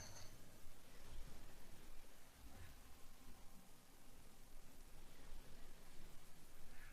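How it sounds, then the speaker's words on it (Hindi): Steady, dense rain noise fills the whole stretch, a broad continuous hiss with a few faint drops and rustles standing out, no voices. "बारिश अब बहुत तेज हो रही है"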